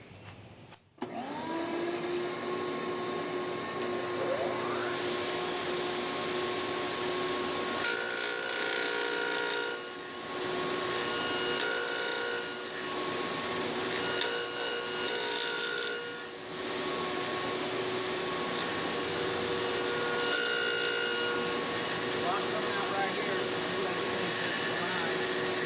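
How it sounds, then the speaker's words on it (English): A radial arm saw cuts wood while a shop vacuum pulls dust through the collection hookup. A loud, steady whine runs throughout and briefly dips and changes as the blade passes through. "I'm losing a lot right here as the blade comes around and kicking it down to my table"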